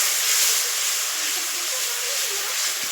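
Ground spice masala of roasted cumin, coriander, bay leaf and dried chilli frying in a pan with added water gives a steady, loud sizzling hiss that holds evenly throughout.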